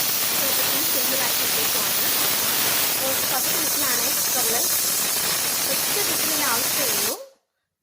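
A pressure cooker holding prawn biryani with tomato and garlic vents steam through its whistle in a loud, continuous close hiss with a faint wavering tone, lasting about seven seconds before cutting off sharply.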